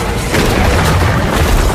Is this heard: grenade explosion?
yes